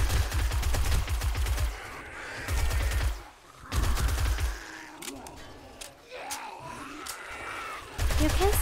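Gunfire in the zombie survival game 7 Days to Die, at a Navezgane athletics complex: dense, rapid bursts of shots in several long strings, loud and close, with groans and growls from zombies between the volleys.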